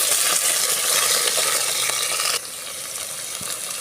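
Ridge gourd peel frying with dried red chillies in a pan, a steady loud sizzle that drops sharply in level partway through and continues more softly, with no talking.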